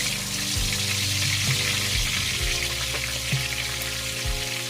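A whole large pompano fish laid into hot oil in a pan for adobong isda, frying with a steady dense sizzle and crackle, close up with no talking.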